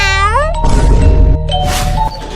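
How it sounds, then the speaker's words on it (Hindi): A cat lets out a loud, drawn-out meow that rises in pitch, followed by rustling and a second shorter cry nearby. "बेटा बिल्ली है, डरो मत"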